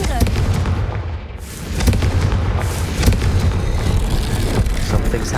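A Confringo fire spell bursts in Hogwarts Legacy, with dense, booming blasts and crackling detonations layered over a constant loud rumble of combat noise throughout.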